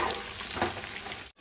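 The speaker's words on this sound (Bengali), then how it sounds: "আর এখানে আরও পকোড়া ভাজা হচ্ছে" Pakoras deep-frying in hot oil give a close, steady crackling sizzle with dense bubbling that holds level throughout and cuts off abruptly just before the end; no voices.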